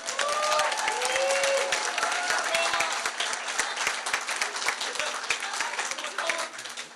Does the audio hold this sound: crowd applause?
yes